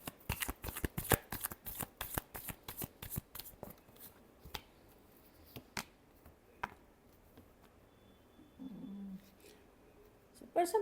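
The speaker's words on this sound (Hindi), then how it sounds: "Last shuffle." Playing cards being shuffled close up: a fast burst of crisp riffling flutters at the start, then a few sparser taps and slides of the deck, quiet and without talk.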